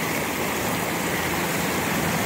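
A swift river or creek rushes steadily with a dense, continuous wash of flowing water, close and loud the whole time.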